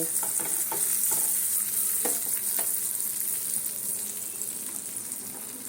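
Steady sizzling and crackling of bread slices frying in butter in a pan, with a few soft clinks, slowly easing in loudness.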